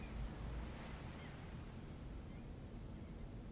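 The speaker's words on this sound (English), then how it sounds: "The sound of distant waves returning from somewhere beyond the cave" Distant ocean waves wash in from beyond a cave mouth as a soft, continuous rushing roar, faint and even with no distinct breaks.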